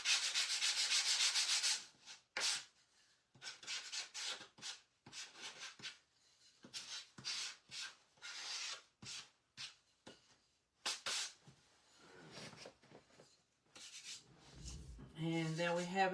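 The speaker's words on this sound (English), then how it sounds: "And there we have it sanded." A wooden cutting board riser being hand-sanded: a sustained close rasp at the start, then a run of short back-and-forth strokes with brief gaps, quiet and with no speech.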